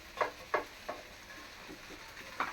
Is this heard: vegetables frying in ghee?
yes